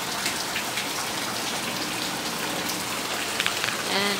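Rain falls steadily during a summer storm, a close, even patter on surfaces that holds at a constant level, with a few faint higher chirps near the end.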